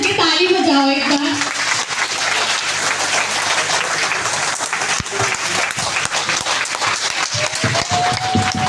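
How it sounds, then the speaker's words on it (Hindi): A crowd claps with hands raised at a stage event, dense and continuous applause after a brief shout at the start, with some cheering voices mixed in. "हाथ ऊपर करके ताली बजाओ एक बार"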